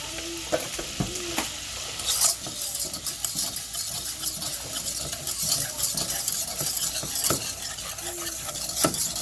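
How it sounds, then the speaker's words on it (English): A butter and flour roux cooking in a pan for Salisbury steak gravy, with a steady sizzle broken by frequent scrapes and clinks of a utensil stirring against the pan, no voices. "allow the roux to continue to cook and start to get like a peanut butter color brown"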